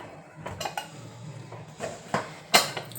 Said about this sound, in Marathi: कुकरला झाकण लावून घेते